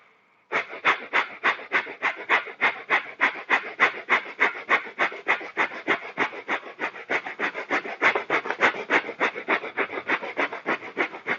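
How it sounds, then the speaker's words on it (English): Rapid, forceful breathing during a yoga breathing exercise, with about thirty sharp rhythmic exhalations at a steady pace, close and loud, and no talk. "Deep inhale,"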